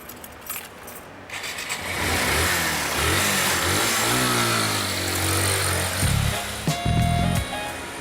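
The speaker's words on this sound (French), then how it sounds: "François, il a une petite moto." Small motorcycle starting up and revving near, its engine pitch rising and falling as it pulls away, with a clatter at the start and a couple of sharp bursts near the end.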